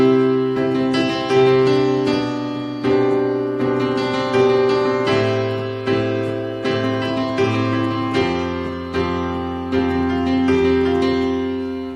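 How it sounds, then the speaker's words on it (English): A keyboard plays the same four chords in a new rhythmic pattern, with sustained harmonic tones and a low bass line that shifts chord to chord, clear and close with no talking. "We could use the same 4 chords, it might sound more like this."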